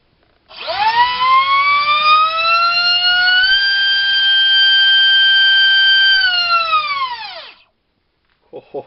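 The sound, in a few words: EMAX RS2306 2750kv drone motor thrust test on 6 cells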